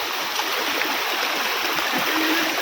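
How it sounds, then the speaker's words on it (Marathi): Monsoon rainwater running down a footpath at Korigad fort near Lonavala, a steady loud rushing stream with gurgles close by, no one speaking. "सगळ्या पाय वाटेवरून पाणी वाहते"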